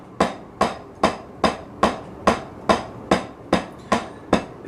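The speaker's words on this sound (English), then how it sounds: "These are doubles." Eleven sharp, even drum strokes played as doubles on a practice surface, close and dry, each hit decaying quickly in a steady, regular pulse with no voices.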